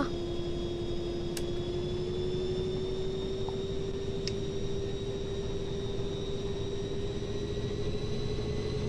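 Diesel locomotive engine in Train Simulator 2016, New Jersey Transit, revving with a steady loud low drone whose pitch rises slowly and evenly, a high whine above it and a couple of brief clicks, no voices.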